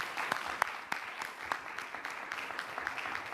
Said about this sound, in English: why don't you give ourselves a big round of applause